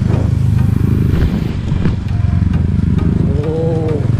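A motorcycle engine drones loud and steady while riding over a rough, potholed rural road near Rizal, Palawan, with wind rush and occasional rattles over the bumps.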